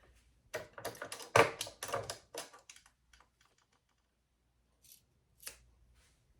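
Scissors snipping through a handbag strap to cut it in half: a close burst of quick, crisp cutting clicks, then a few fainter scattered snips and taps afterward, with no speech.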